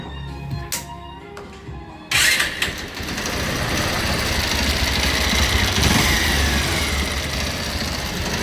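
A Bajaj Pulsar 150 motorcycle with a faulty scissor gear gives a few clicks, then fires up abruptly and settles into a loud, close, continuous rattling idle.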